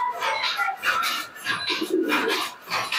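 Pigeons cooing softly and repeatedly at close range, a pair of young birds held at a pigeon seller's loft, with low throaty coos and light rustling.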